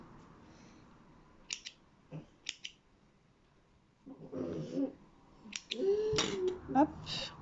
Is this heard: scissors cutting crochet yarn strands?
yes